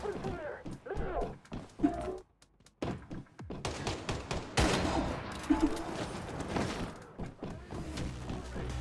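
Video game combat gunfire erupts in rapid, irregular volleys and bursts of shots with dull thuds, while game voices shout in the background.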